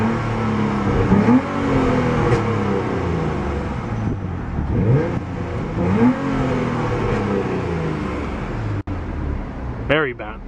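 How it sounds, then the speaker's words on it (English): A 2005 Nissan Altima 3.5 SE-R V6 engine revving up and down several times at close range over a steady idle, with a brief voice near the end. "Gotta love the sound of that Nissan V6."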